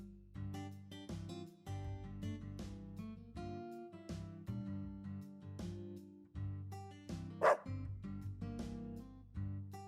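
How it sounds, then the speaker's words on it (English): A Dalmatian barks repeatedly in the video game Deadly Premonition 2, with several clear woofs over steady background music. "Let's follow the dog."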